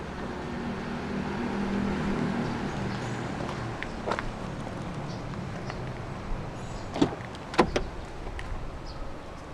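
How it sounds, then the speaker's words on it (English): The power windows of a 2016 MINI Cooper 5-door hatch roll up together, a steady mechanical whir with a few thumps as they seat, no talking. "you're able to roll down all 4 windows in the car simultaneously, and to roll them back up together,"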